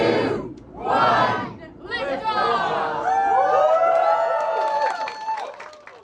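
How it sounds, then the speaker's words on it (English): A crowd at the University of Toronto cheers the Artemis 2 launch, loud whoops and shouts swelling together, with high cries and whistle-like calls rising over steady group chatter. "People at the University of Toronto cheer on the successful launch."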